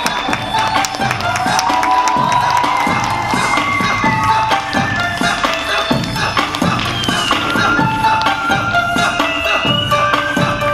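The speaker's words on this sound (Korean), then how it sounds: "큰 박수로 맞이해주세요." A crowd applauds and cheers loudly to welcome a film director and an actor onto a stage at a Korean event, with dense clapping, whoops and shouts running throughout.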